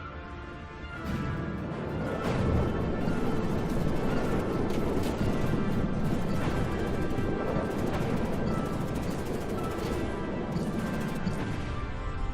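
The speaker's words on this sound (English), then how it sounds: "Explosion there as the missile launcher decided to ram its rear end into the ground, blowing up its ammo caches." A missile launcher crashes rear-first into the ground and its ammo caches blow up in the combat game From the Depths, setting off a loud sustained rumble of explosions and crashing debris that swells after a quieter opening second.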